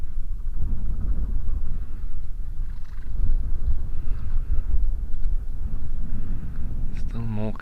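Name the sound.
wind blowing outdoors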